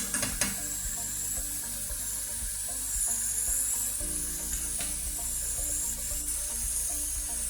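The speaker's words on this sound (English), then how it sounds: "Again, we're going to just continuously stir until the meat is done." Meat sizzles in a hot pan for home-style hibachi, a constant bright hiss with spatula scrapes and clinks as it is stirred continuously, close and steady without voices.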